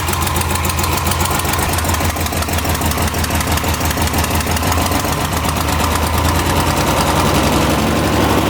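A Ford Ranger engine idles steadily after a distributor adjustment, giving a loud, close, continuous rumble with an even pulsing rhythm throughout.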